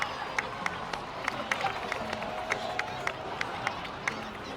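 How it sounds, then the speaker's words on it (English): Crowd applause in the Genshin Impact video game rises as a scattered, fairly faint patter of clapping with sharper individual claps at an irregular rhythm, mixed with a soft crowd murmur and no clear speech. "so please give another round of applause for them"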